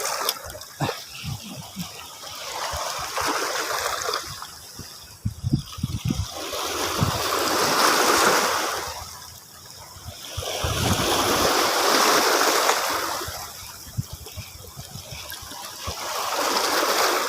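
Rough sea waves roll in while fishing, heard as broad washes of surf that swell and fade in slow cycles, fairly near, with scattered light splashes between them.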